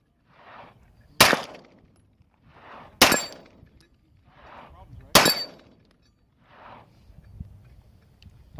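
Handgun fire at an outdoor range: three sharp, loud cracks spaced about two seconds apart, with a person talking quietly between the shots.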